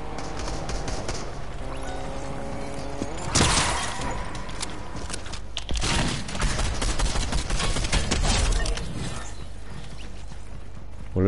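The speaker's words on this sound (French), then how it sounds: "Ça se tire fort là-bas." Heavy, dense gunfire from a battle royale video game, bursts of shots rattling continuously over a mechanical game soundscape with a few louder impacts.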